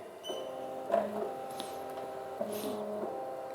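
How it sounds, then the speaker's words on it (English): A BAi Mirror embroidery machine traces a design outline on a hat, giving a faint mechanical whir with stepping motor tones and soft clicks as the frame moves, with no talking. "You will find this machine will automatically make the trace."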